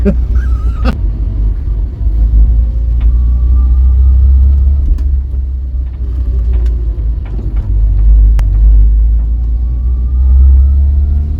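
A salvaged, budget-restored Vauxhall Viva with a loose alternator belt drives along, its engine a loud, continuous low rumble heard from inside the car, swelling gently with throttle and road noise throughout.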